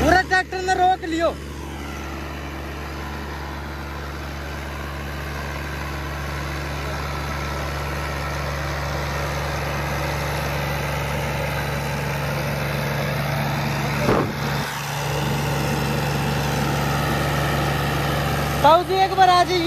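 Mahindra Oja 2127 4WD tractor diesel engine idles steadily with a loud, even hum for about twenty seconds, with brief clunks near the start and end.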